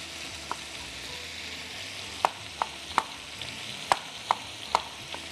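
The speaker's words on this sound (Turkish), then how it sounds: "Yavaş yavaş pişmeye devam etsin." Chopped tomatoes fry in a pan in Anatolian home cooking, a constant soft sizzle close by with sharp utensil clicks from stirring at irregular intervals, no voices.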